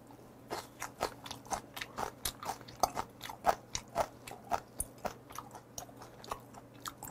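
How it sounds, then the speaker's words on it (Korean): Young radish kimchi is chewed in close, crisp crunches at a steady rhythm, about two bites per second, clear against a quiet background with no talking. "아삭함이 필요할 텐데, 열무김치"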